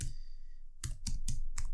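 Brief typing on a computer keyboard: a soft pause, then four quick, close clicks in a steady run, quiet and alone.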